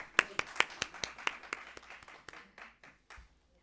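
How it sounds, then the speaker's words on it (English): Applause from an audience at a university session on academia, innovation and entrepreneurship, with distinct sharp claps that thin out and fade over a few seconds. "Please give sir a huge round of applause."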